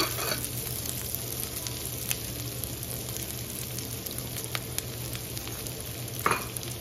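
Mushrooms and onions sizzle in a hot pan for a meatless Chinese-style vegetable stir-fry, a steady close crackle with occasional stirring clinks and scrapes.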